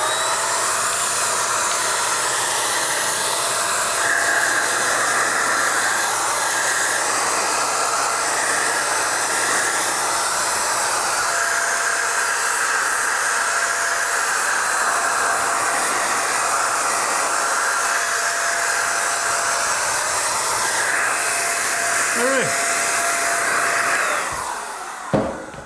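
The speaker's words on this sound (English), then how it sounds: "Actually, I'll spray the bottom half because it's easier." Paint sprayer spraying the bottom half of an interior door, a loud continuous hissing whine with a steady motor hum that runs unbroken for about twenty-four seconds, then cuts off with a brief clunk.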